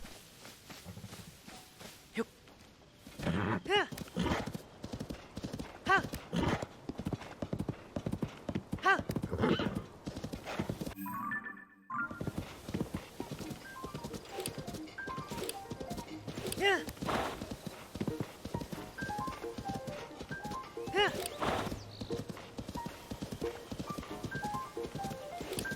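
Horse in Zelda: Tears of the Kingdom galloping with rapid rhythmic hoof clip-clops, broken by a brief pause and whinnies; a person talks over the hoofbeats throughout.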